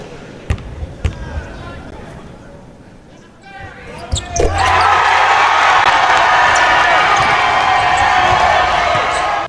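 College basketball preseason exhibition crowd, with a few ball bounces and sneaker sounds on the hardwood before the arena erupts into a loud, sustained roar of cheering that fills the building.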